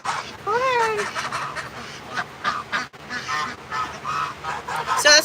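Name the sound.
Egyptian goose honking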